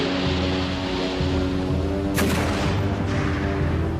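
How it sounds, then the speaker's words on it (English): Cannon fire from a sailing warship in a naval battle against a French flagship: a single sharp booming blast cracks out over a continuous low rumbling roar, with a fainter follow-up report shortly after. "her cannon belched fire into the French flagship"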